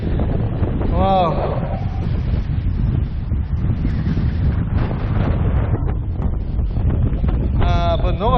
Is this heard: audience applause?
no